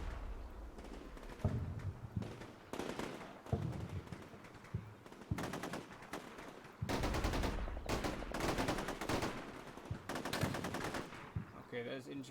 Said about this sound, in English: Apparently they attempted to return fire with their own AT weapons.